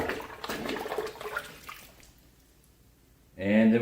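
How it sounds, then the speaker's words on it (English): Grape must for homemade wine being stirred, a wet swishing of liquid for about two seconds that fades into quiet, followed by a short voice at the end. "And then stir it up a little bit."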